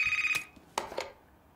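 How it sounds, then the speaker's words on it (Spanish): A telephone rings in a game scene, a short electronic ring burst followed by a second brief ring, close and clear with no talk over it. "Hombre, el teléfono."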